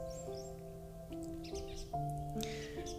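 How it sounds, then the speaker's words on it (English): Several birds chirp and call outdoors in spring, with bright tweets and trills coming from near and far. Steady tonal hums and a faint background murmur sit underneath. "how talkative the birds are. Yeah, the birds are back in town."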